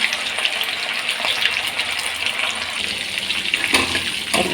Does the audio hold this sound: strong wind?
no